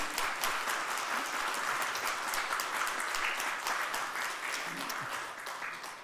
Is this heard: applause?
yes